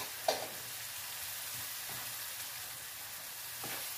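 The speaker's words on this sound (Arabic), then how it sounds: "حتى الكالامار حتى هو يتشحر معاهم بهذه الطريقه هذه" Calamari and rice sizzle in a pan with spices for Spanish paella, a steady close-up frying hiss with a few soft clicks of stirring.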